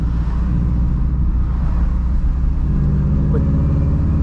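A 2011 Subaru WRX hatchback with coilover suspension drives twisty back roads, its engine a steady, loud low rumble with continuous road and cabin drone throughout, no clear revving peaks.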